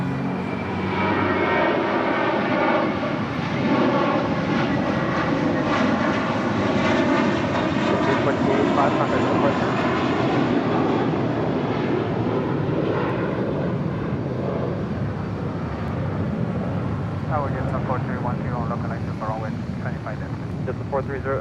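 A United Airlines Boeing 757 in California livery passes at LAX, its jet engines roaring loud and close before easing off, while a voice talks over it.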